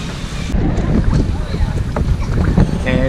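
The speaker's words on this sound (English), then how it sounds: "And we are paddling." A canoe is paddled on a lake, giving soft splashes and water swishes under steady wind buffeting on the microphone, with voices nearby.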